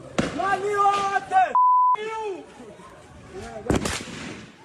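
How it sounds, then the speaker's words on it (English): Gunshots fired by police toward protesters from an intersection position about 100 meters away: a sharp broadband crack cuts through shouting voices early on, with a second loud report near the end over continued commotion. "the gunshots that killed both of these protesters came from the direction and distance of the police position"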